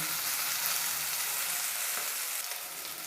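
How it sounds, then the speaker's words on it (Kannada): Chopped onion and curry leaves fry in hot oil, giving a steady, close sizzle that crackles continuously for the whole stretch with no voices. "ಎಣ್ಣೆ ಬಿಸಿ ಆಗ್ತಿದೆ ಕಟ್ ಮಾಡಿರೋ ಈರುಳ್ಳಿ ಸೇರಿಸ್ತಾ ಇದ್ದೀನಿ"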